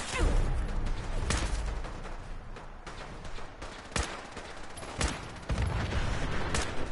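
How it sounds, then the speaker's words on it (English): Rapid minigun fire in Fallout 4 rattles on in long bursts, with a few sharp louder blasts standing out and brief dips between volleys; the gunfire is fairly close and runs without speech. "Someone's got a minigun"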